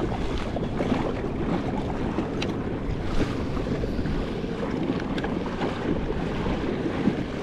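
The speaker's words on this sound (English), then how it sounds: "Look at all the big waves." Big ocean waves around a fishing kayak off the Seven Mile Bridge in Marathon, Florida: steady broadband washing surf mixed with heavy wind rumble on the microphone, continuous and close, with no talk.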